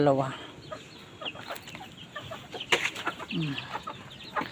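A hen clucks in a farmyard flock of chickens, several short clucks and a drawn-out call set among scattered bird sounds, fairly close and moderately loud, with faint voices in the background.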